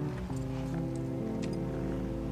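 Horse hooves clip-clop from The Last of Us, a steady walking gait heard over a sustained, tonal game soundtrack.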